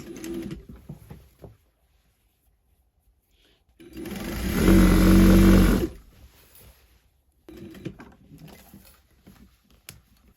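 A sewing machine hems the bottom of a fabric skirt in one steady burst of about two seconds, loud and close, with quieter handling and faint clatter before and after.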